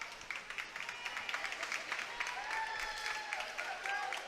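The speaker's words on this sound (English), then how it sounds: "Fans are cheering on the teams" Crowd at a high school volleyball match between Spring-Ford and Pope John Paul II, Dig Pink game, clapping and cheering steadily in a gym, with some voices mixed into the noise.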